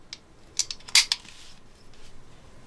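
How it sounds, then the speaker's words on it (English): Safety selector on an Aero Precision EPC 9mm lower being flicked, giving a few sharp metallic clicks close by in a quiet setting. "your safety selector is definitely audible and tactile, as you can hear"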